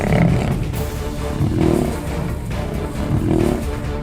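Lions fighting in the wild, from the Mapogo alliance, let out loud, rough growling roars that swell and fade in repeated surges over a constant rumbling background.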